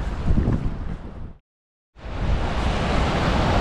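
The Niagara River rushes nearby with a loud, steady broadband roar. The sound cuts to silence for about half a second midway and then comes back just as strong.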